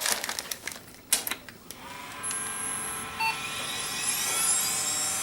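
Old Pentium-era desktop PC with a failing power supply fan starting up, a steady rising whine and rattling hiss building after a few clicks and beeps, close and fairly loud with no talk.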